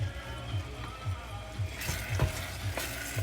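Pink glutinous rice being stirred in a pan over lowered heat, a soft steady sizzle with rhythmic scraping strokes of the spoon repeating about twice a second, fairly quiet and close.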